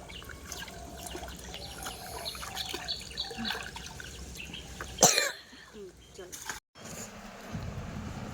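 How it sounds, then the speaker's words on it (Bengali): A single loud, abrupt cough bursts out from a person at home, standing out against a quiet background of faint trickling water and a distant bird. "হঠাৎ মাত্র কাশিটা বেড়েছে"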